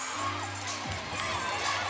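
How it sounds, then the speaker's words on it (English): Crowd at an ACC women's gymnastics championship cheering and shouting in a broad, distant wash of voices that swells softly and holds steady, with a commentator talking briefly over it. "Cal cheering for Stanford."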